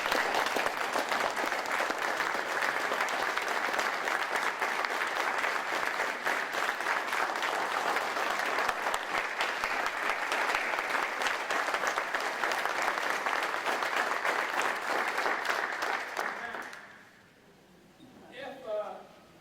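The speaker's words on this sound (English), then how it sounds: "can we give them a round of applause?" An audience at a veterans' forum applauds Corrine and Congressman Bishop in a long, steady round of dense clapping lasting about sixteen seconds, then it dies away and faint talk follows.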